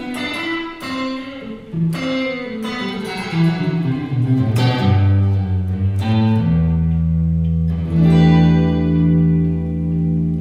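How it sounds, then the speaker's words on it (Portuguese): An electric guitar played through a tuner pedal's reverb effect picks out a descending run of single notes, then lets a sustained chord ring out with a long, washy tail that fills the space. "Aqui já tá com mais cara de, de reverb, só que muito, né?"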